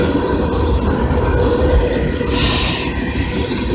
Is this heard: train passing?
yes